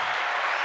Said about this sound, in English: clap it up for C12.